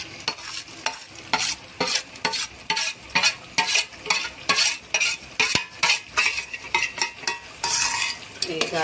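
Masala is stirred into hot frying oil in a pan for a village-style mutton curry, with rapid rhythmic scraping strokes of a spoon against the metal over a steady sizzle, close and bright.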